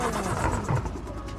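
A custom car engine and exhaust built in Automation gives a short, close, low grumbling drone that holds steady and loud throughout.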